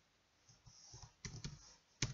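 A few scattered keystrokes on a computer keyboard while a test question is entered, soft clicks spread over about two seconds with a sharper tap near the end, quiet and close.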